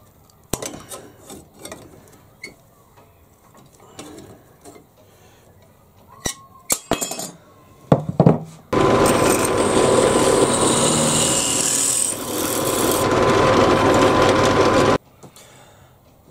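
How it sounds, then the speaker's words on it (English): Tin snips cut the excess off a thin metal plate: a series of sharp clicks and snips, then a long, loud, steady rasping stretch of cutting before it stops abruptly. "I can just use a pair of tin snips to get the excess off this plate"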